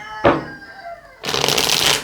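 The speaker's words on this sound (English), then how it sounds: "Last shuffle for Ophiuchus." A brief card riffle, then a longer burst of cards being shuffled, crisp and close.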